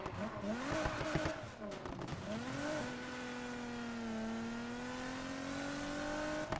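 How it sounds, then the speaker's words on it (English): A car engine in the Need for Speed Heat racing game revs and drones steadily, its pitch rising and falling before settling into a sustained, fairly loud hum with some tire noise early on. "I don't know what engine is in this. It sounds like a hybrid or something."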